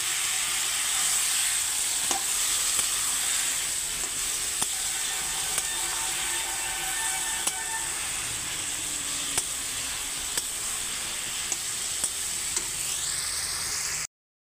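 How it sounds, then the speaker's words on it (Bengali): Spice paste with coriander powder, mustard paste and a splash of water sizzles steadily in a pan for a ridge gourd and fish curry, with a spoon scraping and stirring in repeated clicks and scrapes, close and continuous. "পাঁচ মিনিট ধরে নাড়াচাড়া হয়ে গেছে, কষিয়ে নিয়েছি।"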